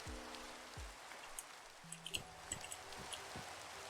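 Rain falls in the Minecraft video game, faint steady patter with a few scattered sharper drop ticks, quiet and alone without voices.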